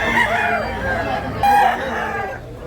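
Several big, older roosters for sale at a Tabunok, Cebu market crow in overlapping bursts, one loud call standing out near the middle, amid clucking and crowd noise.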